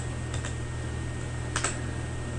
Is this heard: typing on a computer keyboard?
yes